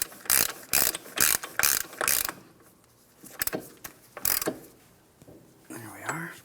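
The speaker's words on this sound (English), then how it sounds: "When we go to install the axle nut, you want to make sure you use a hand tool for this." A hand ratchet tightens the front axle nut on a 2004-2008 Pontiac Grand Prix during a wheel bearing and hub replacement, with loud bursts of rapid pawl clicking in several close strokes separated by pauses.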